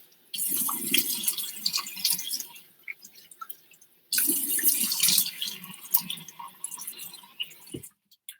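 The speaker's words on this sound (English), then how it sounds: "Let me wash this off my face without wetting my computer." Running tap water splashes steadily as a face is washed at a sink, in two long bursts separated by a brief pause, with wet splashing and dripping close by and fading toward the end.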